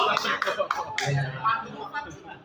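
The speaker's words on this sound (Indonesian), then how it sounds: "tepuk tangan dulu dong." Residents at a neighborhood meeting give a short scatter of claps, a few sharp hits early on that fade quickly beneath voices talking nearby.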